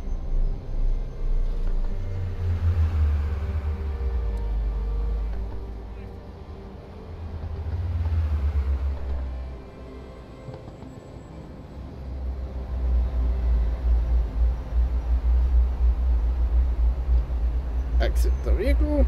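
A car engine in the Unreal Engine 5 City Sample game starts and pulls away, a steady low rumble that swells and eases, with a person talking over it throughout.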